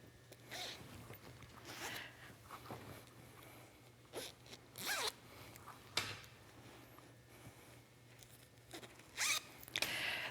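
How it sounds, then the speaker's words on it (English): Zippers on a towel tote bag are pulled shut one after another, several quick rasping zips close by with short quiet gaps between them and a low hum underneath. "start by closing your 4 zippers"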